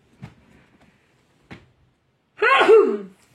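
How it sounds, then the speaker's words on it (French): Two short soft breaths or sniffs build up before one loud, voiced sneeze near the end, close to the microphone, with no talking. "Excusez-moi, j'ai envie d'éternuer."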